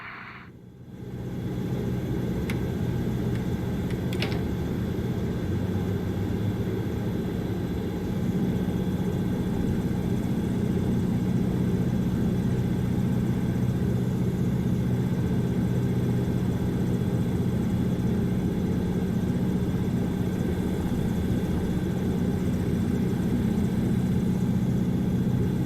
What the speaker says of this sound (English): We'll wait about 60 seconds until the engine warms up and the oil temperature reaches 80 degrees Celsius.